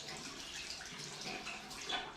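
Hot water running from a tap to wet a shaving brush, a steady broadband splashing flow that lasts throughout at a moderate, even level with no talk.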